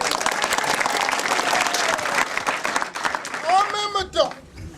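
An audience at a storytelling evening applauds the storytellers with sustained, full clapping that thins toward the end as a voice starts speaking over the last claps.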